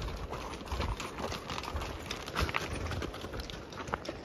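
Rented horses on a mountain trail near Lake Kaindy clop steadily over a constant wash of broadband noise, the hoofbeats soft and continuous rather than sharply spaced.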